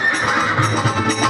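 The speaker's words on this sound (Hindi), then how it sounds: "जैसे जैसे बर्बरी का नीला घोड़ा आगे बढ़ने लगा" A horse whinnies and neighs as a sound effect in a narrated devotional story, a blue horse carrying a young warrior toward battle; the call is moderately loud and fills the short moment without talk.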